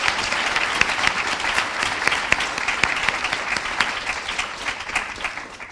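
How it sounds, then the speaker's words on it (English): A conference audience applauds the interpreters at a London event, steady dense clapping filling the room throughout before tapering slightly at the end, with no talk over it. "So a special round of applause for our interpreters."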